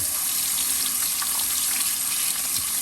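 Water jetting from a tap or hose to flush out a clogged sprinkler head, a steady rushing hiss with no break, close and fairly loud, with no voices.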